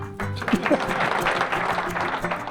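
An audience at a motorsport talk event breaks into applause, a dense burst of clapping that starts abruptly and continues steadily for a couple of seconds in a large room, mixed with some crowd voices.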